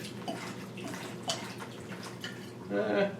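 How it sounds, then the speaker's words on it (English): Cheap whiskey pours from a bottle into a bag over salmon, a short gurgling splash that swells near the end, with kitchen background and faint talk. "So with the bag there, I just pour in the whiskey."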